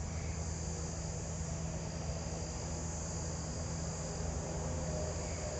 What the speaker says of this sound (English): I just heard a lesser anglewing down that way.